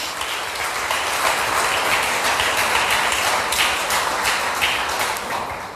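A church congregation applauds during a worship service, a dense, steady wash of many hands clapping at close range that holds evenly throughout.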